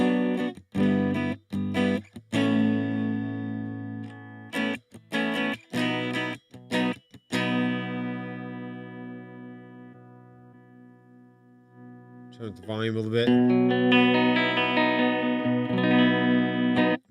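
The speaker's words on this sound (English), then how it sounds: "Okay, so that's the sound of my tube amp." An electric guitar played through a captured tube amp profile on a Quad Cortex gives choppy, clipped chord stabs, then a long ringing chord that slowly fades before loud strumming returns. A voice briefly speaks.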